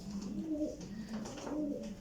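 Domestic pigeons of a Sialkoti breed coo repeatedly at close range in a low, rolling rhythm, a soft steady murmur without talk.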